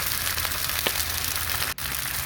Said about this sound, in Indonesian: Biarkan mendidih.